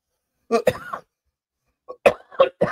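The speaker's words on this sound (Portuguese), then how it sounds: "Perdão pela tosse." A person coughs nearby, a short pair of coughs, a pause, then three more harsh coughs in quick succession.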